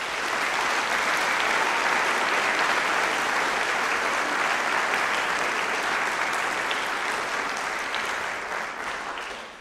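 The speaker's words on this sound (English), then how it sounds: "can we please give a huge round of applause to our stage crew and Jared up in the sound room." Loud, sustained applause from a large audience at a school junior music concert, steady clapping that fills the room and tapers slightly toward the end.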